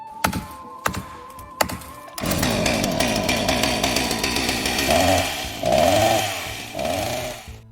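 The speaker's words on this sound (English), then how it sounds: "The firemen use an axe and chainsaw to cut through the front door." Firefighters' chainsaw roars steadily, revving up and down as it bites through a wooden front door, after a few sharp knocking axe thuds at the start.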